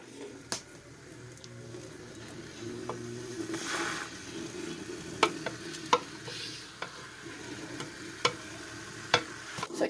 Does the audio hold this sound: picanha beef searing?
yes